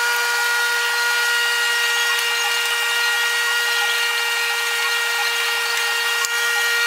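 A power tool cuts steadily through the factory bumper of a Toyota Tacoma pickup, a loud continuous high whine holding an even pitch for about seven seconds, alone with no talking.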